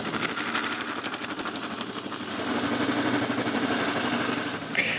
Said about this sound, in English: To make a real test, I stick my patterns on it and cut it on the bandsaw.